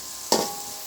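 Sliced big onions hit a hot pan for sautéing, a sudden loud sizzle and stir burst that settles into a steady, close frying hiss with no talk.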